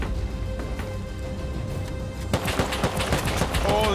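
Gunfire in the survival game Rust, likely from an automated turret. After a quiet stretch comes a sudden burst of rapid, dense shots, loud and close, with a few talking voices underneath.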